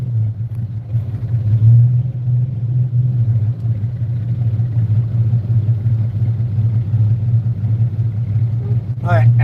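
A vehicle pulling a Chris Craft boat out of the water, its engine a steady low rumble close by, with a voice speaking briefly near the end.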